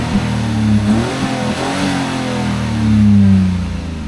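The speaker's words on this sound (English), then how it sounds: "let me rev it for you a little bit. Let's rev it to see how it sounds." Close-up engine revving from a small 2023 Fiat 500 car, rising and falling in pitch with a loud surge near the end.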